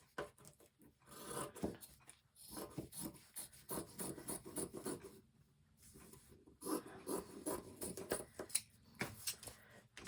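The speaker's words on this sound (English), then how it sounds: "I'm going to cut it" Craft material is cut close up for a fairy or angel bottle, with quiet, irregular rasping snips and rubbing strokes broken by short pauses.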